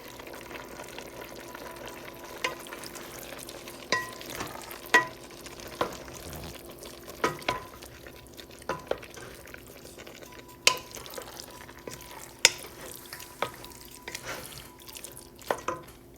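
A spoon stirs a hamburger beefy soup mixture in a pot, giving soft scraping and clinking strokes with a few sharper knocks against the side, steady and close with no talking.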